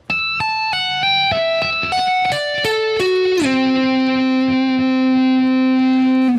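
A distorted electric guitar plays a tapping lick slowly, with a handful of separate plucked and tapped notes stepping downward before a long sustained note rings out, loud and solo.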